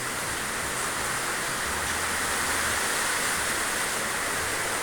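Heavy rain pours down in a dense, steady wash of hiss that stays unbroken and even throughout, with no voices.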